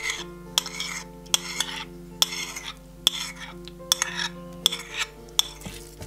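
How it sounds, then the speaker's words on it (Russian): A spoon stirs a thick catfish boilie bait mix in a bowl, scraping and clinking against the sides in irregular strokes with sharp knocks, over a faint steady hum. "Перемешаем."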